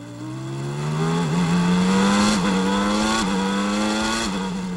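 A 1993 Formula 1 car, with Andretti's McLaren nearby, howls past at high revs, engine pitch climbing steadily through several gear shifts, loud and close, with no talk over it.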